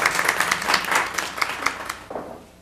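A small group in a room claps after a talk about beverages, with brisk, uneven clapping that fades toward the end and a brief voice-like sound at the close.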